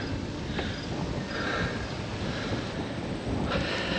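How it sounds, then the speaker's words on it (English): Steady, heavy wind buffeting the microphone outdoors in Buffalo, New York, a constant low roar with no voices. "It's very windy."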